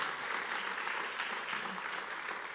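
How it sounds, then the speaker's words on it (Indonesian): Church congregation at a Sunday service in Gorontalo claps together in a steady, dense round of applause that lasts the whole moment, fairly distant and soft. "Boleh beri tepuk tangan yang paling mudah buat Tuhan Yesus"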